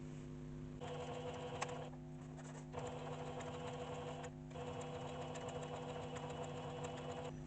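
A Singer One Plus sewing machine stitches along a fabric edge folded a quarter inch, its steady rapid needle mechanism running in two short bursts with brief pauses, close and alone with no talk.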